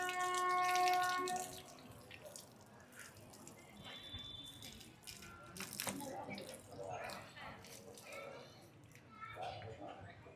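Water running from taps as people rinse their feet before entering the Samarlakota Bhimeswara Swamy temple, a steady splashing wash under nearby chatter and voices, with a brief tonal beep early on.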